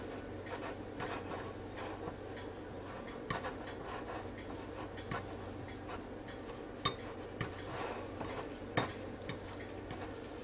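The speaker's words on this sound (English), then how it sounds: "And then put your yolks in the bowl with the fork" A fork clinks and taps against a bowl while mashing deviled egg yolks. Faint, sparse metallic ticks sound at irregular intervals over a quiet room hum.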